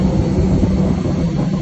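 A steady, loud roar of an airplane engine from inside the cabin, a dense broadband drone with a low hum that holds constant and unbroken throughout, with no voices.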